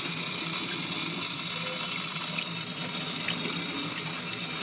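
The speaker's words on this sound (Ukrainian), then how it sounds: "промиваю всі листочки" Running water rinses ivy leaves under a tap, a steady broadband splashing and trickling that carries on without a break, close and even, with no voices over it.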